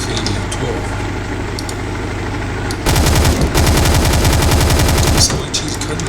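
Automatic AK-12 rifle fire in a tank survival video game, a sustained rapid burst of shots erupting loudly about halfway through over a steady engine-like background drone.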